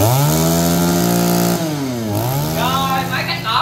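A Mitsu TL231 grass cutter's small two-stroke engine runs loud and close, holding a steady high buzz, then dipping and rising again as the throttle shifts.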